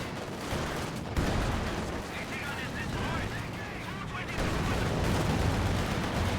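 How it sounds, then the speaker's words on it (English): Grenade explosions and gunfire from a competitive video game match burst in dense, loud volleys with rumbling blasts, a sharp jump in intensity partway through, and a commentator talking over the action. "Grenade was going in again."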